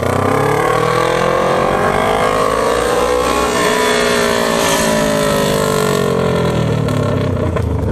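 Motorcycle engines revving hard up close during a holiday group ride with a Yamaha XJ6, two Honda CB500s and a Ducati, loud rising and falling roars sweeping through the gears without pause.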